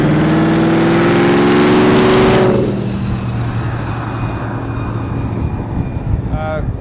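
A twin-engine supercharged 1927 Ford hot rod runs loud and close, a dense roaring drone with a rising whine that drops off after a couple of seconds into a lower, steady idle rumble.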